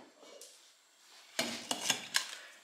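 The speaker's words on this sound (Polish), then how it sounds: "Teraz przykryję garnek." A lid goes onto a cooking pot on a gas stove, starting with faint rubbing and then a few sharp metallic clinks and clatters close by, with no one speaking.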